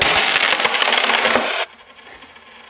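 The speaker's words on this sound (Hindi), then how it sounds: "इसके ऊपर 2 3 सिक्के रखेंगे।" Coins jingling and clinking against each other while being stacked onto a tall coin tower, a dense rattling clatter that stops abruptly partway through, leaving near quiet.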